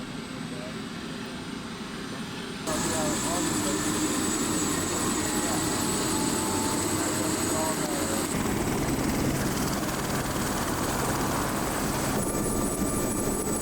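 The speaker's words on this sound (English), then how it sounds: "Now, the helicopter ride to the glacier" A helicopter flies out to the Mendenhall Glacier near Juneau, Alaska, its steady rotor and engine drone loud and continuous from the cabin, rising sharply after a quieter opening.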